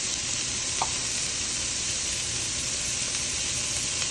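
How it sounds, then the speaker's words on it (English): Pre-diced onion sizzling in preheated oil in a cooking pot, a steady, loud, dense hiss that continues unbroken throughout with no voices. "got oil preheating, and then I'm gonna throw in some veggies. Gonna add some onion that I've pre-diced."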